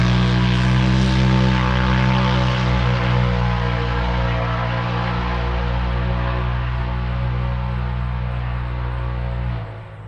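A Polaris RZR side-by-side engine runs at a steady, high droning pitch with strong harmonic hum, close and loud, before the revs drop off near the end.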